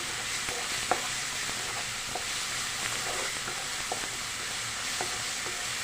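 Potato curry fries in a pan, an even close sizzle with a few light taps and scrapes of stirring scattered through it.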